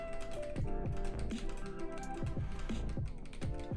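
Rapid typing on a computer keyboard during a typing.com exercise, quick irregular key clicks running continuously at a soft level over a faint background of music.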